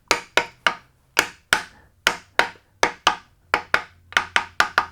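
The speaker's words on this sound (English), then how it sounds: "then slide the plate front into a location and gently tap it into the ID of the aft housings till it's nice and flat" Metal plate front being gently tapped into the inner diameter of an aft housing, a series of about sixteen sharp, close hammer taps, some evenly spaced and some in quick pairs, with a faint low hum between strikes.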